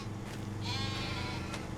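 Sheep in the Austrian Alps of Farming Simulator 25 bleat a few times over a steady ambient game bed, the calls moderately close and clear.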